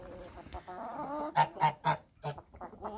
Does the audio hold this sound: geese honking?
yes